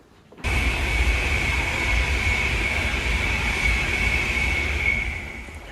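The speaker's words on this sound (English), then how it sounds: "That was an Avanti West Coast service to London Euston." An Avanti West Coast train bound for London Euston rushes past close by, starting abruptly as a loud, steady roar with a high whine that holds for several seconds, then begins to ease off.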